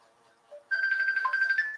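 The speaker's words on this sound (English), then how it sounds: "And my other phone is ringing." A phone ringtone starts suddenly and plays as a steady electronic melody, loud and close. Faint background sound comes before it, with no talking during the ring.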